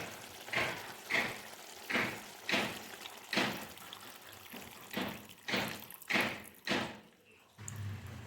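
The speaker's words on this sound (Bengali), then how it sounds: "আমি যেহেতু একটু ঝোল করব তাই একটু জল দিচ্ছি" Water is poured in repeated splashing bursts into a pan of boal fish curry, about ten rhythmic pours close by, each a short gush followed by a brief lull.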